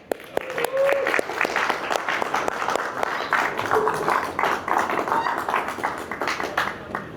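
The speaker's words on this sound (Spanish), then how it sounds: "Un aplauso." An audience applauds at a religious gathering in a restaurant, steady dense clapping for several seconds at moderate volume with some sharper individual claps standing out.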